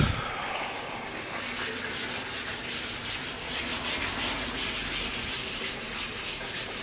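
Hand sanding of car body panels in a body shop during prep work, a close, steady rhythmic rasping with repeated back-and-forth strokes and no speech.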